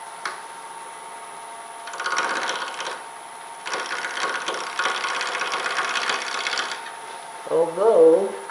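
Large bowl gouge biting into spinning wood on a lathe while turning a Christmas ornament, a rough scraping cut in two bursts with a short pause, followed by a brief squeal at the end.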